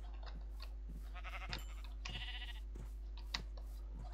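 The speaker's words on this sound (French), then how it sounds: "Je vais ramener" Sheep bleat in a video game, several short bleats from the flock scattered over a few seconds, moderately close, over a steady low hum with no talking.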